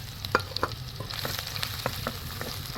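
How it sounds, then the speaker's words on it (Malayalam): Onions and popped mustard seeds fry in a pan, giving a steady low sizzle broken by scattered scraping stir strokes and light crackles, with no voices. "കടുക് പൊട്ടിയിട്ടുണ്ട്. ഇതിലേക്ക് സവാള ഇട്ട് കൊടുക്കാം."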